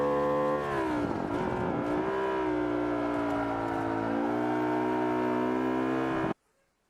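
Race car engine in the Forza Motorsport 5 video game, loud and sustained, holding a steady high whine with a slight dip as it shifts gear, then cutting off abruptly.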